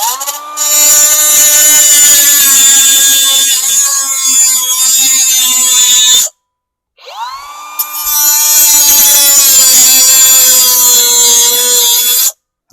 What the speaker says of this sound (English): I'm going to grab the cutoff tool. We'll cut that little screw head off there.